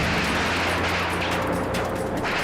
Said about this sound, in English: There is the explosion.